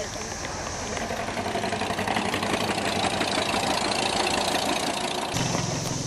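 A 1953 antique tractor engine idles nearby with a steady knocking chug, a continuous mechanical rumble with faint voices in the background at a tractor parade.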